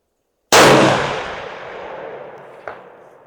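A single sharp rifle report from a Ruger Gen 2 chambered in 7mm PRC, fired at a far-off rock with a Hornady match round, with a long rolling echo decaying over about two seconds and a faint crack returning near the end.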